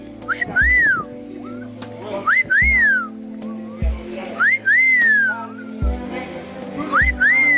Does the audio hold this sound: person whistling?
yes